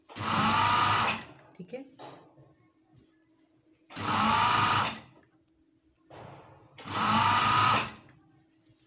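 Three loud, close bursts of a sewing machine stitching a trouser belt, each about a second long, separated by quiet gaps with faint handling noise; a voice speaks briefly.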